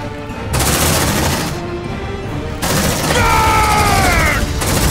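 Sustained automatic gunfire in the sci-fi game Aliens Dark Descent, loud rapid bursts with a brief pause, then a shrill whining tone over the shooting, no speech.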